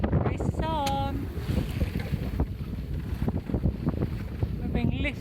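Steady wind buffets the microphone aboard a racing sailboat offshore during a double-handed race, with water rushing past the hull, and brief electronic beeps cut through at the start and end.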